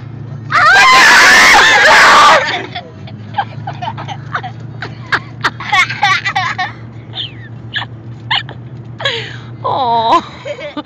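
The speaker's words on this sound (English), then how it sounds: "start screaming at the same time" A family, parents and young children, lets out one loud joint scream for under two seconds; afterward children's chatter, squeals and a whimper follow at lower volume.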